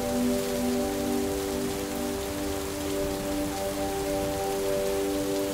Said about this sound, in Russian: И за то, что сегодня наконец-то пошел дождь.